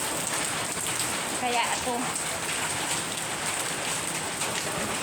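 Heavy typhoon rain lashes down in Taiwan, driven by strong wind, making a steady dense hiss throughout with a brief voice speaking over it partway through.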